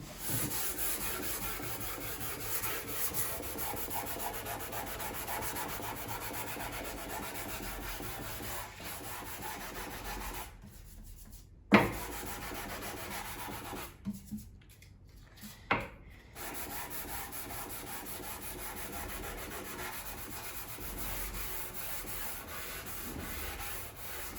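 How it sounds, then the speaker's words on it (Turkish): Fine sandpaper rubbed steadily over a wooden door threshold, a continuous close scratchy rasp running throughout with two brief pauses and a sharp knock midway. "Son olarak ben bir ince zımpara geçeceğim."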